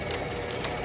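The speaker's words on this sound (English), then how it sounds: "just sewing it up right now using my sewing machine." A sewing machine stitching a knit top runs in a quick, steady mechanical rattle, close by and fairly quiet, with no voices.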